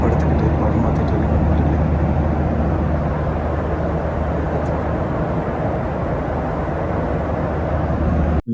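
Steady, loud cabin roar fills a passenger flight from Dubai to Mumbai, a constant broadband drone of engines and airflow that continues unbroken throughout.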